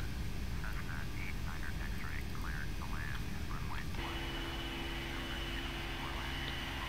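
Airliner engines in a flight simulator game hold a steady, moderately loud whine and roar at takeoff, a broad, even drone with faint tonal chirps and a shift midway, without speech.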